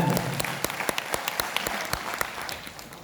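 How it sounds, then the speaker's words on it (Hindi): An audience at a Hindi-language motivational business seminar gives a burst of applause, dense overlapping clapping with a few sharp individual claps standing out, steady and then thinning slightly toward the end. "मैं चाहूंगा एपीएलएल के लिए और एक बार जोरदार तालियां।"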